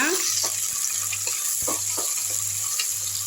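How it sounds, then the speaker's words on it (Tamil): Onions sautéing in a pan for vegetable dum biryani, a loud, continuous close sizzle with a faint repeating low hum beneath it and soft stirring scrapes. "அரை கிலோவுக்கு இது நல்லா வதங்கட்டோங்க"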